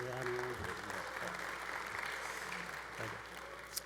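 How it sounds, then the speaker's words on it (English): Applause from the audience at a college opening convocation, a dense steady wash of clapping that fills the hall for a few seconds under a brief bit of talk. "you can give a rousing applause for these individuals"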